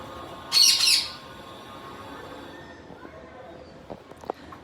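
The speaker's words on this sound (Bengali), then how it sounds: "এটা হচ্ছে রেড আই গালা মানে লাল চোখের গালা" A loud harsh screech from a red-eyed galah cockatoo at a parrot farm near the start, then quieter room noise with a few faint clicks and thumps.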